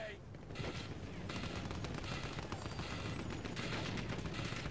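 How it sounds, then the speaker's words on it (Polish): Dense, continuous barrage of crackling bursts and rapid pops in the Battlefield 1 video game, fireworks-like explosions and gunfire layered thickly together, loud and sustained throughout with faint voices underneath. "Ale fajerwerki!"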